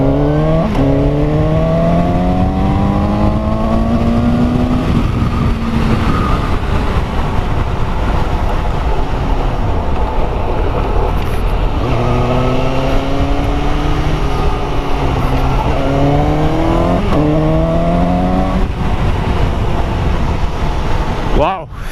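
A motorcycle engine revs hard and repeatedly, pitch climbing through the gears in steady rising sweeps, loud and close with constant roar throughout.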